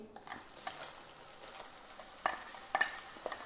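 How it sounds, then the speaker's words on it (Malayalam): Crushed shallots sautéing in hot oil for a Kerala-style quail fry: a soft, fairly quiet sizzle broken by a few sharp spoon scrapes and taps against the pan, with no talking. "ഇനി ഈ എണ്ണയിലേക്ക് നമ്മൾ ഈ ചതച്ച് വെച്ചിരിക്കുന്ന ഉള്ളി"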